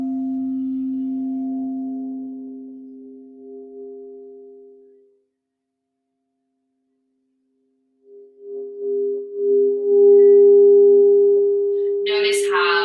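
Sustained crystal singing bowl tones during a guided meditation ring steadily for about five seconds, fade into silence, then swell back with a bright, layered drone, with a brief burst of higher noise at the very end.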